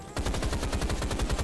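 Rapid automatic gunfire from Rise of the Triad, a fast, evenly spaced stream of loud shots rattling nonstop after a short quiet start.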